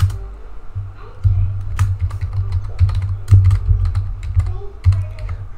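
Someone types on a computer keyboard while writing a first C program in the nano text editor, giving a close, irregular run of clicking keystrokes with brief pauses.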